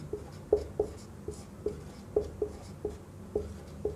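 Pen or chalk strokes while writing out examples of seeds in a classroom lesson, a series of short, regular taps and scratches at a steady pace, close and fairly quiet, with no talking.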